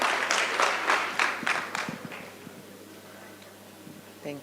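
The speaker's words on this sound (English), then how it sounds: "A round of applause, ladies and gentlemen, for our CEO." A small audience at an energy conference claps for the CEO in a brief, loosely rhythmic burst that thins and fades within a couple of seconds, leaving a quiet hall with faint movement.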